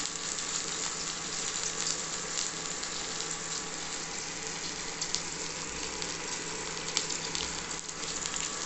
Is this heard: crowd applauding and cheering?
no